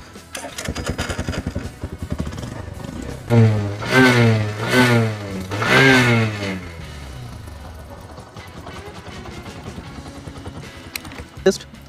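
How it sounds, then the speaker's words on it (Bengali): A Bajaj Platina 110 motorcycle exhaust revs up twice in strong, throaty bursts, then settles back to a steady idling putter, close to the microphone. "আমি আপনাদের একবার এক্সজস্ট সাউন্ডটা আপনাদের একবার শুনিয়ে দিচ্ছি"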